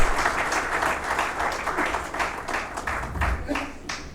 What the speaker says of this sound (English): do a warm round of applause for our glittering galaxy of dignitaries